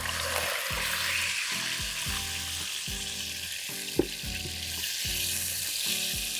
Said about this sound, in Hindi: 5 मिनट फ्राई करने के चिकन पिंक से वाइट हो जाए।